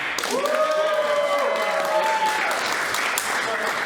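An audience at a live Dungeons and Dragons show applauds, steady clapping and cheering for several seconds, with a host's voice talking over it at the start.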